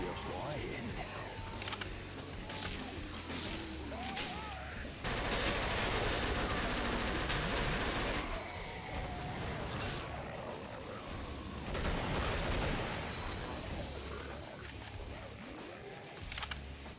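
Rifle gunfire in the Killing Floor video game: dense, continuous rapid shots and booms fill the scene, loud and steady in bursts, while a player talks over it.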